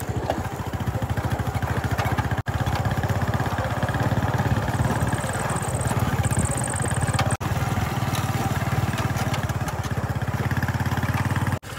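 A motorcycle rides along a rough, broken village road, its engine chugging in a steady, close, rapid pulse that holds on without a break, with only brief clicks and dropouts.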